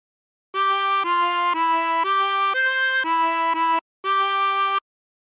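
Sustained, shimmering notes from a 24-hole tremolo harmonica form a phrase of Yellow Rose of Texas: seven notes in a steady row, a brief pause, then one final held note, played close and alone.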